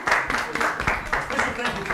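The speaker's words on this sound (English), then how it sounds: "A round of applause to the panel, guys." An audience at a Holy Family meeting applauds the panel, a brief burst of many hands clapping together close by, with some voices mixed in.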